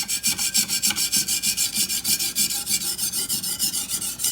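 Chef's knife sharpened on an extremely coarse natural whetstone, a close, loud, gritty rasp repeating in quick, regular back-and-forth strokes, about four per second, with no talking.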